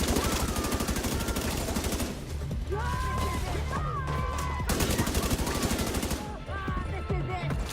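Rapid gunfire bursts in The Division 2 shooter game crackle almost continuously and loudly throughout, broken by brief pauses, with layered in-game effects and tonal sounds beneath.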